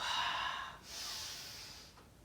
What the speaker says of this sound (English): Inhale over, exhale up. Inhale and exhale.